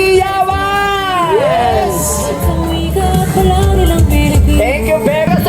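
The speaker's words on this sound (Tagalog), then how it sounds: "Malakas na hiyawan!" A crowd cheers at a parade of government employees and various groups in Pasig, loud overlapping shouts and whoops rising and falling close by.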